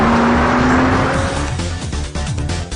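A Porsche Cayman with a 2.7-liter, 245-horsepower engine roars loudly and close, its note sweeping up under hard acceleration with tire squeal and no talk.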